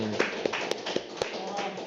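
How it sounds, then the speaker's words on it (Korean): A church congregation applauds during a Sunday service, scattered claps and taps spread across the moment, with voices talking over them. "우리 이재호 형제에게 우리 감사의 박수 한번 줍시다"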